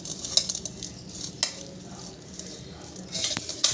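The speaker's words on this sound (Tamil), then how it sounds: "இதில் நம்ம கொஞ்சம் கொஞ்சமாக எடுத்து போட்டு கிண்டிடலாம்." Tamarind rice (puliyodharai) being stirred and mixed with a spoon in a vessel, with soft scraping and a few sharp metallic clinks of utensil against the pot, fairly close and with no talk.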